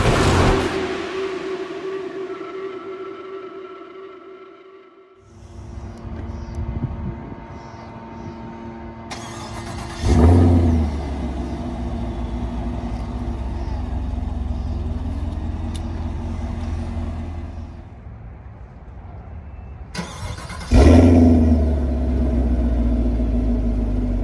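A 2021 Chevrolet Camaro LT1 Redline Edition V8 fires up repeatedly: each crank gives way to a loud, deep rev burst that settles into a steady rumbling idle, with three clear start-ups spread across the stretch.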